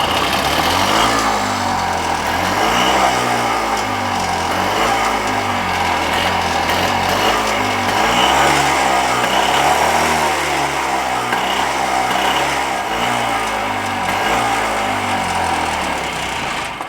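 AMF Harley Davidson golf cart engine fires up and settles into a steady, loud running drone with a pulsing, uneven mid-pitched throb throughout, no talk over it.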